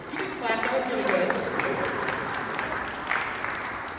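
An audience at a community meeting on a north side recreation center (YMCA) claps steadily with a dense, even patter of hands, while voices talk over the start of the applause.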